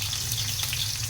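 Onions sizzling in a hot kawali: a steady, close hiss of frying with no voices over it, brief and even.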